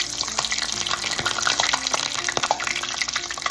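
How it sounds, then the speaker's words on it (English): Squash blossoms fry in hot oil in a pan, a steady dense sizzle with scattered crackles and pops, close and continuous without talk. "More of them frying"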